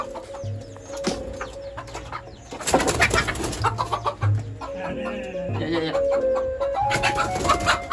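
Village rooster being caught for cooking, with clucks, squawks and flapping wings amid a scuffle, mixed with voices and some tonal background sounds.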